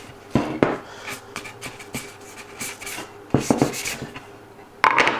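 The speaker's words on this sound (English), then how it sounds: "then just give the edges a nice rub down to get rid of any" Hand sanding the edges of MDF board, soft irregular rubbing strokes at close range, quiet overall with a few louder bursts of scraping friction.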